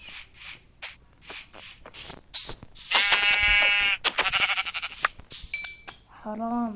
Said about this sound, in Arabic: في خروف كمان هنيك